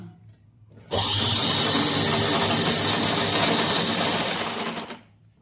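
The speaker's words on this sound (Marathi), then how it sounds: "पिकोची मशीन आहे साड्यांना पिको करते" A picot machine finishing saree edges starts abruptly, runs as a loud, steady, high-pitched motor whir for about four seconds, then winds down and stops, with no voices.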